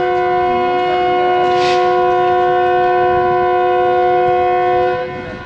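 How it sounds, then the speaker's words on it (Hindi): A long, steady train whistle blows at a railway station as the Khyber Mail departs, holding one sustained harmonic tone loud and close for about five seconds before it fades, with no talking. "डिपार्चर विसल हो गया।"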